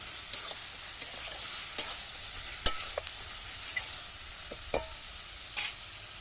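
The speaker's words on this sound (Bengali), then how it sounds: "নেড়ে চেড়ে ভালোভাবে মিশিয়ে নিচ্ছি তেল ছেড়ে যাওয়া পর্যন্ত মশলাটাকে ভালোভাবে কষিয়ে নেব" Masala frying in oil is stirred and cooked down until the oil separates, a faint steady sizzle with scattered sharp scrapes and clicks of the spoon against the pan, and no voices.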